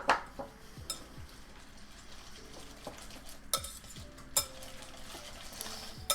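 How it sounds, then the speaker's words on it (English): A whisk stirs a liquid in a bowl, with soft swishing and a few sharp metallic clinks against the side, close up and quiet. "I should not be mixing this with a whisk"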